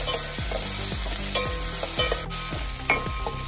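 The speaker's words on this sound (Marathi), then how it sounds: "एक वो कांदो बारीक चिरलेलो आणि अर्धे टोमाट बारीक चिरलेले मोव जायसर मातशे तळसून घेऊया।" Chopped onion and tomato sizzle in hot oil for a crab masala, with a spoon stirring and scraping the pan in a steady rhythm about twice a second, close and loud.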